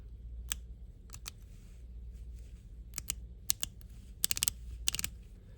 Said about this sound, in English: a little bit louder and a little bit more of a click sound compared to the smoother style bezel